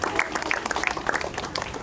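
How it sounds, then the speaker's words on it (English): A small crowd at an outdoor fire pit storytelling session at a Disney resort in Hawaii claps briskly and continuously, a lively patter of hands with a few faint voices underneath. "Micah, give yourselves a round of applause."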